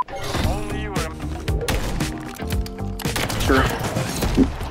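Rapid bursts of gunfire from a first-person shooter game with sniping, loud and repeated across the span, mixed with game effects and a voice talking over it.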